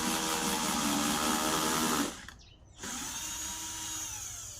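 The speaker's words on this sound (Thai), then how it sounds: "แล้วก็ทำการเจาะเลยครับ" A power drill fitted with a socket bit bores holes into a plastic food-scrap compost container. It gives a loud, steady whine, breaks off for a moment, then starts again and runs on.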